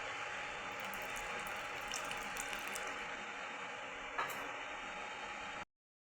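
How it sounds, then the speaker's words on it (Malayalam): Tamarind water is poured into a pot of simmering sambar with cooked vegetables, a steady, close splashing trickle that runs unbroken for several seconds before cutting off abruptly, with no speech. "പുളി ആഡ് ചെയ്ത് കൊടുക്കുക."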